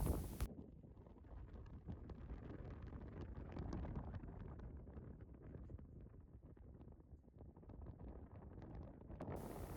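Strong, steady wind on a beach buffeting the microphone in a continuous low roar, broken by gusty surges, with no voices.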